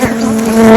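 Africanized bees buzzing close by near a backyard hive, a loud steady droning hum of many wings that fills the short moment without pause.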